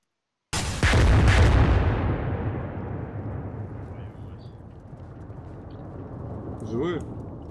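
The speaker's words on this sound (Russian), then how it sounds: "Взрыв, ложитесь!" A single loud explosion in the military video game ARMA 3 bursts in sharply, then a deep rumbling decay trails off over several seconds, with a brief voice heard near the end.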